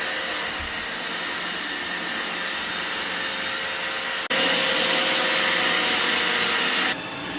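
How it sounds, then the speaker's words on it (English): A household vacuum cleaner runs on Christmas Eve, a steady broadband whir with no voices, growing louder after a brief dip midway before easing off near the end. "Oh, you hear that? Somebody's vacuuming,"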